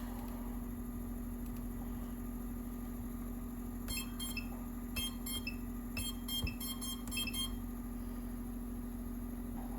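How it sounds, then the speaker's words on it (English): An iFlight Alpha85 FPV tiny-whoop drone's beeper sounds several short, high-pitched beep bursts in quick groups over a steady electrical hum. "Beeper"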